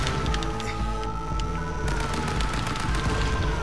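Rapid gunfire from the Stick Fight game fills the whole stretch as a dense, continuous volley of shots and booms, loud and unbroken, with no talking.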